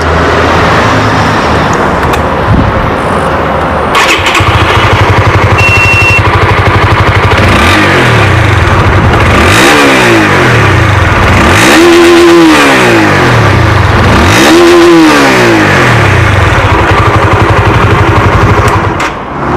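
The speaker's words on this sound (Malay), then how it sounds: "Dan ini pula bunyi Honda RSX dengan RSX Winner." Honda RSX and RSX Winner 150cc supermopeds idle near and loud, then the engine is revved in about three swelling bursts that fall back to idle, with no voices.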